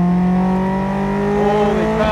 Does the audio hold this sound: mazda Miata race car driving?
yes